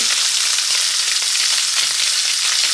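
Small mackerel fillets sizzle in a hot pan with a loud, steady crackling hiss that runs unbroken from start to finish, close up and without any voices.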